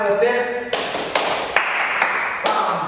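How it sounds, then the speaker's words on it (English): A dance fitness class clapping for themselves at the end of a remix routine, with several short bursts of applause breaking out in uneven rhythm and loud close handclaps. "you all can clap for yourself"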